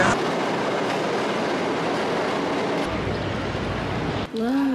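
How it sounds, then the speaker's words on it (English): A New York subway train rolls out of Times Square station with a steady loud rumble and rattle throughout, and wheels squeal in rising tones near the end. "we're about to get back on the train in"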